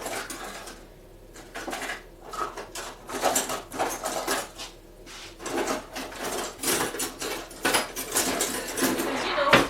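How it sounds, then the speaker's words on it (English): A metal ice cream scoop scrapes cookie dough and drops it onto a baking sheet, making repeated close scraping strokes and light clacks against the metal in an irregular rhythm. "I'm going to use an ice cream scoop."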